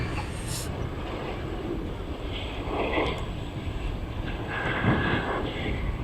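A fixed-wing aircraft on final approach at East Midlands Airport, its engine noise a steady, fairly distant broadband roar with wind rumble, swelling slightly midway and near the end.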